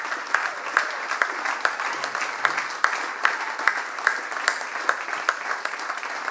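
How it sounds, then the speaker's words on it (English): An audience at the 2015 Taite Music Prize ceremony applauds a record, a steady wash of many hands clapping at moderate distance with faint crowd murmur, sustained and even throughout. "I think we can all have a huge round of applause for that."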